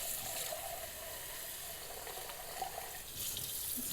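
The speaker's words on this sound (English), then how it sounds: "I put a little bit of water in here so that it all flows, and I pour it into one of these mesh strainers" Water with ginger and garlic poured through a mesh strainer in a home kitchen, a soft steady trickling splash that runs continuously and fairly faintly, swelling slightly near the end.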